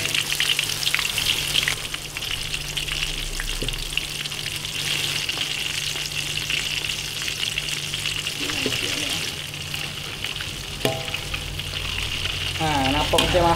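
Shrimp fry in hot oil for turmeric fried shrimp with a dense, steady sizzle and crackle throughout, with occasional stirring clinks and scrapes.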